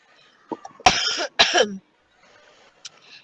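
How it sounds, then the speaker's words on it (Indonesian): A woman with a cold coughs hard twice in quick succession, loud and close, with a little faint talk around the coughs. "maaf Ibu. ya kalau saya batuk-batuk"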